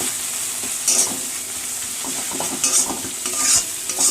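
A paste of ground cumin and mustard frying in a pan, with a steady sizzle broken by a few brighter bursts as it is stirred and scraped, close and fairly loud, no talking.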